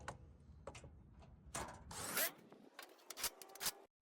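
A 13 mm wrench tightens the skid plate bolts under a car during an oil change. Close, rasping metallic clicks and scraping come in short bursts.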